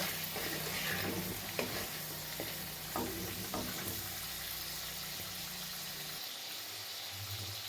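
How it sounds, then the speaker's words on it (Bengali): Cauliflower fries in a pan of oil, a moderate continuous sizzle with light stirring clicks and scrapes and a low steady hum underneath, with no voices. "এবার আমি ফুলকপিটা এর মধ্যে ভেজে নেব।"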